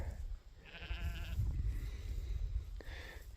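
Newborn lambs and sheep bleat in the rain at lambing time, two clear drawn-out bleats over steady background noise, fairly close, with no talking.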